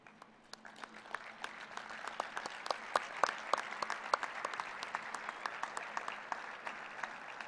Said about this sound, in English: I ask you, our graduates, to please stand and applaud their contributions to your success